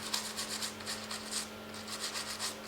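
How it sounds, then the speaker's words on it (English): Soldered rail joints on a model railway layout are rubbed clean of flux with acetone, giving a quick series of soft, rhythmic scrubbing strokes close up for a few seconds. "Clean the flux away."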